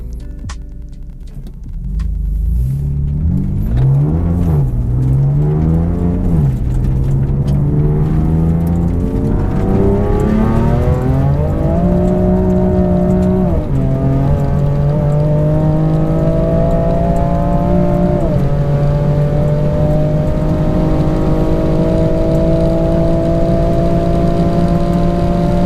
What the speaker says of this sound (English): I had big wheel spin then in third as well, massive wheel spin.